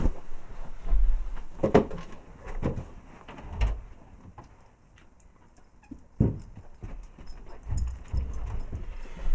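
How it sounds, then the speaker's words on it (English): A dog at a door asking to be let in, with a run of irregular close thumps, bumps and scrapes that come in bursts over several seconds. "Sorry, dog wanted in."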